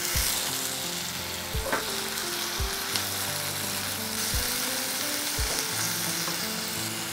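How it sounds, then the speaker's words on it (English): Onions fry in oil with chopped tomatoes for a spicy mixed dal, giving a continuous sizzle broken by several scraping stirs and spoon knocks against the pan. "So after frying the onions, we are going to add the chopped tomatoes."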